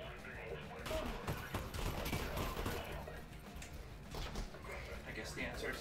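Enemy gunfire in Half-Life: Alyx, a close burst of rapid shots and clattering mechanical noise, mixed with a person talking.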